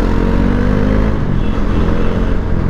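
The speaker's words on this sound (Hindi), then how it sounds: "बाइक वही एकदम तो मस्त भाग रही है" A motorcycle rides along at steady speed, its engine a loud continuous drone with road and wind noise filling the whole stretch, no talking.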